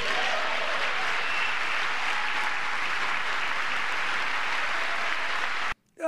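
Steady applause from a studio audience fills nearly the whole stretch, dense and continuous, then cuts off abruptly near the end.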